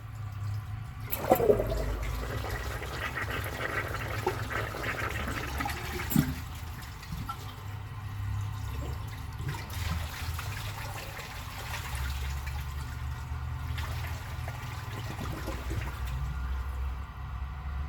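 A 1994 Eljer toilet flushes with a weak siphon: a rushing gurgle of water swirling down the bowl, then a long steady trickle and hiss as the tank refills.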